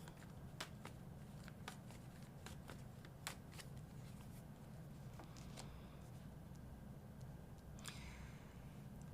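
Tarot cards shuffled and drawn: soft riffling and snapping card sounds, faint and close, with small irregular flicks over a steady low background hum.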